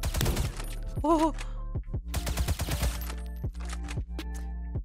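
AK rifle fire in the browser shooter Krunker.io: rapid, sharp shots crack in quick bursts with short pauses between, loud and close, while a player briefly exclaims over the gunfire.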